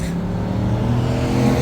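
Car engines roar past at close range, a loud, steady broadband rumble that swells slightly toward the end, with no talking.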